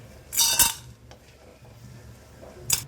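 Fried chana dal is lifted out of hot oil with a metal utensil, giving two loud scraping clatters against the pan, one near the start and one at the end, around a quiet stretch.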